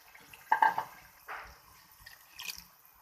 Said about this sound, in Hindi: अब इसके अंदर हम डालते हैं पानी।